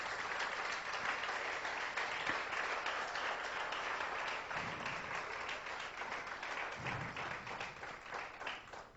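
A church congregation applauding during a Spanish-language service, a steady roomful of clapping held at an even level, with a couple of low thumps underneath.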